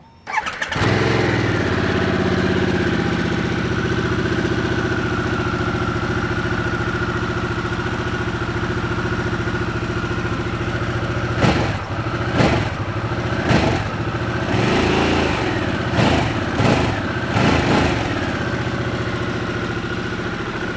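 A 2021 Harley-Davidson Sportster S cranks over and fires, then settles into a loud, steady idle with a deep throb, broken near the end by a few sharp throttle blips.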